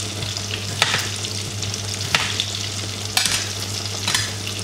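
A spoon stirs squid meatball soup boiling in a pot, with a steady bubbling simmer and a few brief scraping knocks against the pot at regular intervals, no talking.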